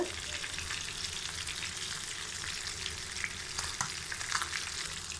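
Fish fries in a pan, Chennai Marina beach style, a loud continuous bubbling sizzle close up with scattered pops and faint crackles, steady for the whole stretch.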